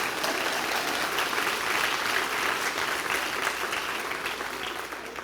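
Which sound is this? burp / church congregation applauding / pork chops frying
church congregation applauding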